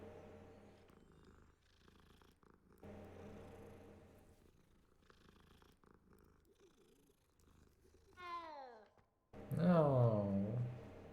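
A cat purring and meowing in the Hogwarts Legacy video game. Quiet game ambience comes first, then a short rising meow, then a louder, close purring trill near the end.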